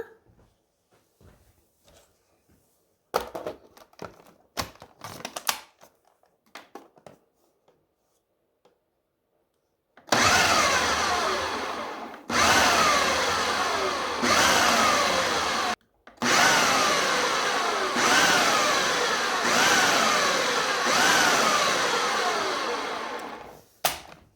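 After some quiet clattering, a food processor whirs in several long pulses of loud, steady grinding as it pulses sugar into powdered sugar, separated by brief stops.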